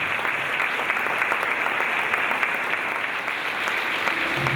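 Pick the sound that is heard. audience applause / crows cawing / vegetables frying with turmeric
audience applause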